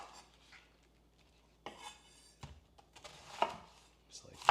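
A knife cuts the core out of a quartered cabbage on a board, giving a few sparse, sharp cuts and knocks with quiet pauses in between, close and fairly soft.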